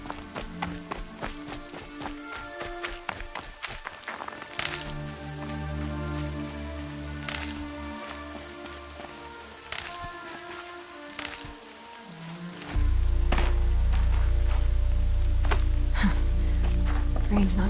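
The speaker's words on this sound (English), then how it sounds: "Rain's not so bad." Steady rain in a video game patters over a scattered tapping of drops, joined by a low droning hum that grows louder near the end.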